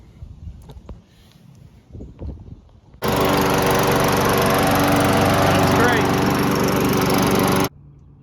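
Lawn mower engine, salvaged from the trash, starts abruptly after some quiet handling noises and runs as a loud steady drone at constant speed, then cuts off near the end.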